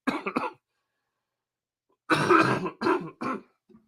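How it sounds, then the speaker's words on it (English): Two short bursts of coughing from a person with a cold, close and loud, separated by a long silent pause; the second burst comes as several quick hacks. "Give me 1 second. I'm going to cough."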